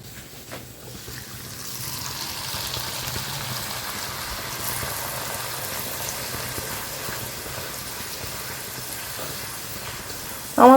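Luchi fry in oil on a gas stove, a steady soft hiss and bubbling that swells after the first couple of seconds and holds evenly, with a brief louder clatter at the very end.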